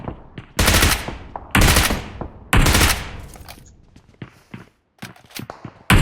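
Bursts of gunfire from a shooting video game: three loud sustained volleys of rapid shots, followed by quieter scattered single shots and footstep-like clatter.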